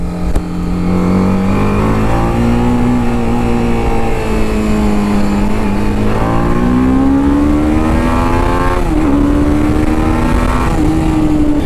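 BMW G310RR motorcycle accelerating hard in sports mode during a rainy-season test ride, a loud steady engine note rising and falling in pitch through gear changes, close and continuous with no talk.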